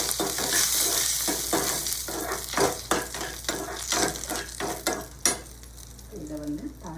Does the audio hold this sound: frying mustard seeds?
yes